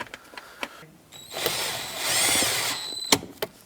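A power driver runs in a short whirring burst for a couple of seconds, driving 5.5mm screws into the ignition switch of a 2008–2010 Ford F-450, with light clicks and handling knocks before and after.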